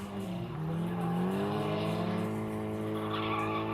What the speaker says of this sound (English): So now we go to the next round with Sean and Ryan driving together